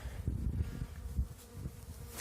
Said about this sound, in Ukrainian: бджоли є багато, потужна сім'я